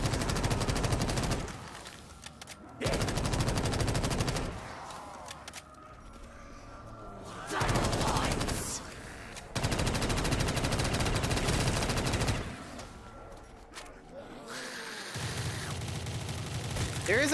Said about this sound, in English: There is a few weapons here that I really hate using because they're like rapid fire weapons.